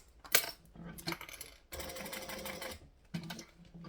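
A sewing machine stitches fabric in short bursts of rapid mechanical whirring with clicks between runs, a sustained stretch in the middle, close and moderately quiet.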